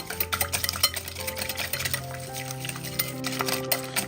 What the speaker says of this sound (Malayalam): ഒരു സ്പൂൺ വെച്ചിട്ടോ അല്ലെങ്കിൽ ഒരു വിസ്ക് വെച്ചിട്ടോ ഇതുപോലെ ഒന്ന് അടിച്ചെടുക്കുക